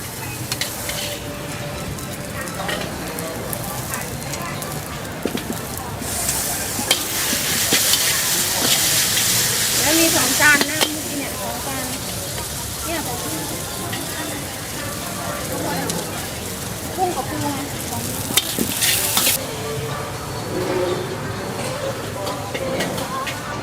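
Pad thai sizzles and fries in a wok over open flames at a Bangkok street food stall in Talat Phlu Market, with steady crackling and scraping stirs, bursts of flame roar, and voices talking over the cooking.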